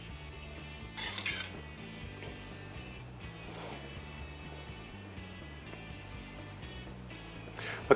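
Asian Cajun shrimp being plated onto a dish, with clinks and scrapes of utensils against dishes, a louder clatter near the start and lighter taps after, over a faint background hum.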